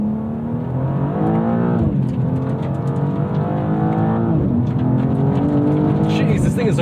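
A 2026 BMW M2 CS G87 in its most aggressive drive mode accelerates hard from close by, the engine note climbing through repeated rising sweeps broken by quick gear shifts, with a voice talking over it.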